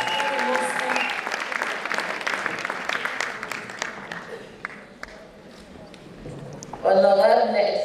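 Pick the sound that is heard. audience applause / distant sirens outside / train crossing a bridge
audience applause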